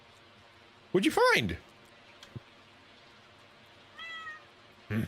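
A house cat gives a loud, close, drawn-out meow, followed later by a softer, shorter call. A person talks in between.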